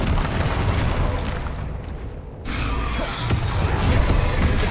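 Fiery Confringo spell blasts in Hogwarts Legacy combat: loud continuous roar with a brief dip, then a fresh burst of crackling boom that sustains to the end, with no voices.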